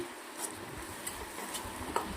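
Roasted gram flour is stirred into a lotus stem fry in a pan, making soft, quiet scraping and light clinking of the spoon against the pan.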